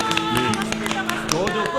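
An audience claps at a community radio open studio event: quick, irregular hand claps, close and fairly loud, with voices mixed in underneath.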